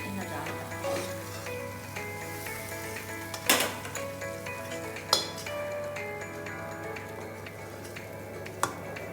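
Sizzling tempering poured into a pot of dal, a steady hiss with sharp metallic clinks of a utensil against the pan at a few moments, close by, no one talking.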